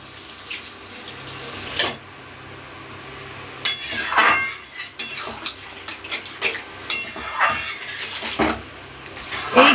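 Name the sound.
pouring water into the cooking pan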